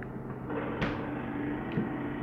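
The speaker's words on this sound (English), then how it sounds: "See this fan sound, freezer fan sound." Faulty Hisense no frost fridge freezer with its fan running noisily, a steady whirring hum with a couple of brief clicks or knocks, heard close up and alone.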